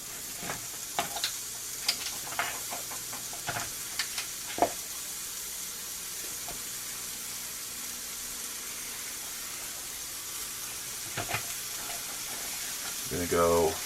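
Meat patties sizzling in a cast iron pan, a constant soft frying hiss with scattered scraping and tapping clicks, a brief louder burst at the end, and no talk.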